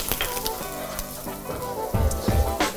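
Bacon and garlic sizzle in a hot pan, a crackling, spitting fry with a few louder pops and clatters near the end.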